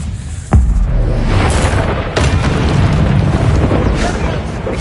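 Confringo blasting spell detonating in the Hogwarts Legacy video game, a sudden loud boom followed by a sustained rumbling roar of battle noise, with a second impact about two seconds later.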